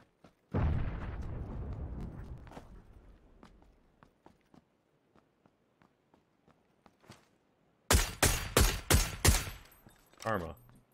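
Automatic gunfire in PUBG: a loud rapid burst of about five shots near the end, after a long stretch of rumbling movement and scattered footsteps.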